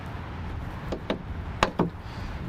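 The hood of a 2020 Freightliner M2 106 Summit Hauler is pushed down by hand, giving a few sharp thumps and knocks close by, with a louder double bang near the end.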